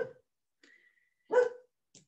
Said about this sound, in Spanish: Disculpen mi perrita que le encanta ladrar cuando hay alguien que está gritando afuera.